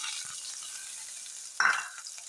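Chopped onion hisses in hot oil with mustard seeds as a tempering for a fresh pigeon pea sambar, a steady soft sizzle with one brief, sharper flare of crackling partway through.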